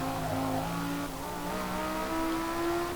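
Audi R8 Coupé 5.2 FSI quattro with its V10 engine, 2010 model, driven in Forza Motorsport: a steady, loud engine drone holding close with slowly rising pitch, no voices.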